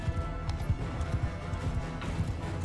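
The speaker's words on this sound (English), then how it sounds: "Horse archers charge." Cavalry horses galloping in battle in the video game Mount and Blade Bannerlord, a steady drumming clip-clop of many hooves with an occasional whinny, loud and close, filling the whole stretch.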